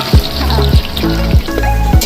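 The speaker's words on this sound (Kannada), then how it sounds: "ಈರುಳ್ಳಿ ಹಾಕ್ತಾ ಇದ್ದೀನಿ." Onions fry in fat in a pot for mutton biryani. The sizzle is loud and close, broken by several heavy scraping and stirring knocks, and no one talks.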